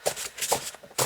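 A deck of cards being shuffled by hand, with several quick riffling bursts in a loose rhythm, close and moderately quiet, the cards sticking together slightly.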